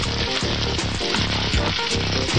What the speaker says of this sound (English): put the meat side down and let them get a nice brown sear going on